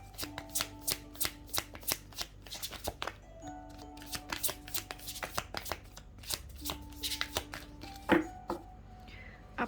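Tarot cards shuffled by hand in a steady run of crisp riffling flicks, close and clear, with a faint musical tone humming behind.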